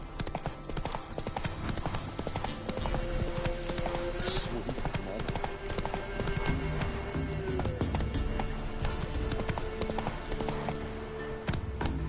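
Hooves of a horse galloping steadily in The Witcher 3, a continuous fast clip-clop close up beneath game music, with a brief whinny partway through.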